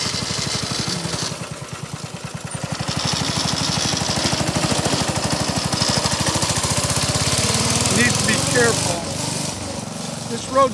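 A small go-kart engine chugs loudly and steadily nearby as the kart heads up a driveway, its rapid pulsing putter holding for several seconds before easing off.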